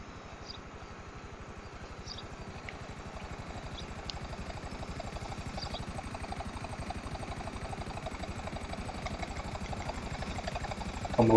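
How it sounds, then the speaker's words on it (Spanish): A video-game helicopter approaches with a fast, even rotor thump and engine whine that grows steadily louder over several seconds, heard alone. "Este helicóptero nos lo vamos a quedar."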